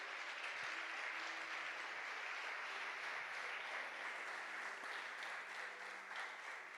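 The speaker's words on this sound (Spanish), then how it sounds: "démosle palmas fuertes al Señor por esto" A church congregation claps loudly and steadily, a dense wash of applause that holds at an even level throughout, with no voices rising above it.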